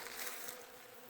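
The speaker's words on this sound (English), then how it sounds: "A buzz with honeybees." Honeybees buzz steadily around a row of flowering boxwood shrubs in a front yard in spring, a dense, continuous insect hum heard close and alone, with no talking.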